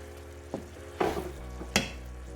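A spatula stirs garlic and fish sauce in a sizzling pan, a soft steady fry broken by three distinct scraping clatters roughly half a second apart.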